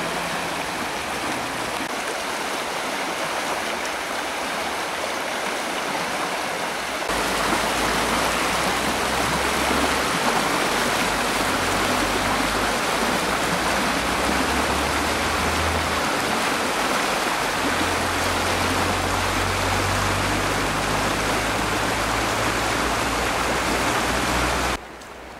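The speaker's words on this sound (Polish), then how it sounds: "Zobaczcie na ten wartki nurt, niczym górskie potoki." The fast current of a lowland river, the Pilica, rushes loudly and continuously, a dense roar of flowing water that swells after a few seconds and holds steady.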